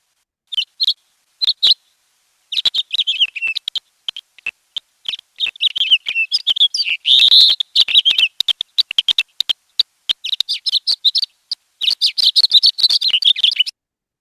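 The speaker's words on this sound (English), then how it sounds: "And that's the wood thrush." Bright, rapid wood thrush song with fluting and trilling phrases repeating through, separated by short pauses, clear and fairly close.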